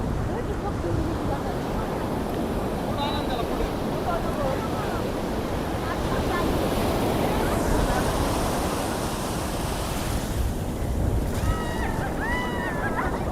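Sea waves wash in strongly on a beach in a continuous broad roar of surf, with gusts of wind on the microphone and occasional faint voices of a family playing in the water.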